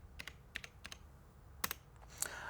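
Keys pressed on a Hog lighting control console: a quick run of distinct plastic clicks, some in pairs, close and dry in a quiet room with no talking.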